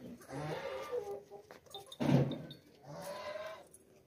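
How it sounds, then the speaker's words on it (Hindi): A goat that has a kid bleats in a livestock market setting, with several wavering, nasal calls in a row, close and loud, and one sharper cry standing out in the middle. "बच्चे वाली बकरी है"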